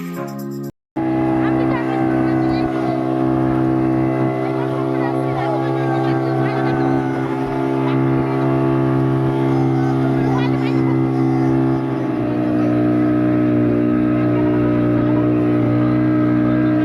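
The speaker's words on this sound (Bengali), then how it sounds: "তো তারপর আমরা সবাই মিলে বোট রাইড করলাম।" A boat ride on the sea at Digha: a steady, loud motor drone with strong low harmonic hum runs continuously, shifting slightly in pitch partway through, with wind and water noise on top.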